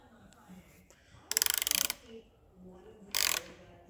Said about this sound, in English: Just get a 1/4 inch. This is a 3/8 ratchet.